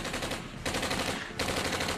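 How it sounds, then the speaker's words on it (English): Tommy gun machine-gun fire in a dense, loud, continuous rattle of rapid shots, broken into two or three sustained bursts with no talking. "Not even his trusted Tommy gun could save him from the blaze of bullets fired by the doomed FBI agents."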